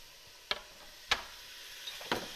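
Small bites of beef stew meat searing in batches in a hot pan, with a few brief stirring scrapes and bursts of sizzle over a low, steady background.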